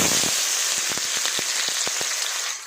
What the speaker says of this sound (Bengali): তেলটা গরম হয়ে গেছে দিয়ে দেবো হচ্ছে গাজর